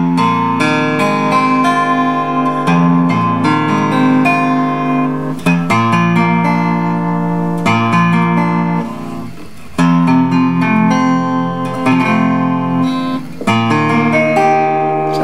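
Toy guitar played with a light pick, loud plucked notes and chords ringing on through the passage with a wavering, slightly off-pitch tone, no voices.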